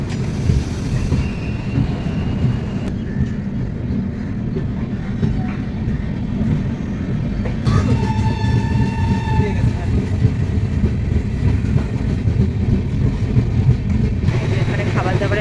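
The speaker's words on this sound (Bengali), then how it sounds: "আমাদের শতাব্দী মালদা টাউন ছাড়লো।" Shatabdi Express train rolling out of Malda Town, heard from on board as a loud, continuous rumble with wheel noise and occasional squeals throughout, and people talk over it.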